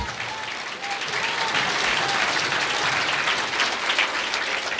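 Church congregation of the Iglesia de Cristo applauding loudly, a sustained, even wash of many hands clapping filling the whole stretch without breaks.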